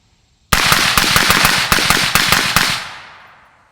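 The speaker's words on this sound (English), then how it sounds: "Let's shoot a couple rounds right into the berm right here and see what type of gas we're getting back." Guardian Defense Manufacturing GDM556k rifle fired into a dirt berm in a quick string of about ten loud, sharp cracks, each close and punchy, followed by a fading echo.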